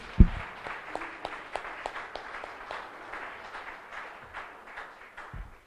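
Applause from a church congregation during a worship service, a steady patter of many hands clapping at moderate distance, fairly soft, with a couple of louder thumps at the start and end.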